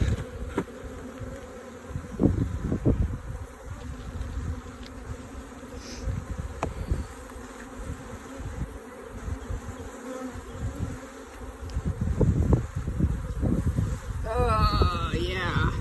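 Honeybees, drones among them, buzzing in an opened beehive during an inspection: a dense, continuous hum of many insects close to the microphone, with wind noise and people talking at times.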